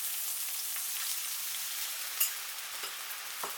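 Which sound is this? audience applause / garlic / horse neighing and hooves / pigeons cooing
garlic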